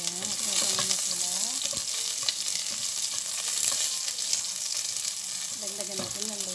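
Garlic frying and being stirred in a pan while beef broth is cooked, a continuous close sizzle with scraping stirs and brief faint speech.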